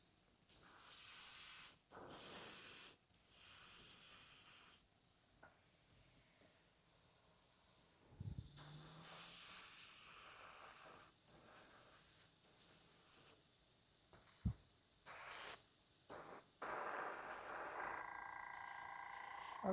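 Airbrush hissing in repeated short bursts of steady spray paint while a Boba Fett prop is painted in a workshop, each burst starting and stopping abruptly, with faint handling noises in the gaps.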